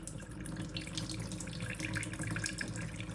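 Water poured from a container onto a houseplant at a sink as part of winter houseplant care, a steady splashing and trickling stream lasting a few seconds, close by, with no talking.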